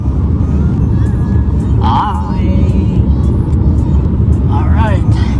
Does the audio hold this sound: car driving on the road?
yes